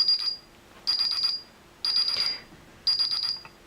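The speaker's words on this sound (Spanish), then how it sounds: "va a sonar la sirena y los flashes van a iluminarse" An Inim Smarty indoor alarm siren sounds in four loud, high-pitched pulsing bursts, each about half a second long, separated by short silent gaps.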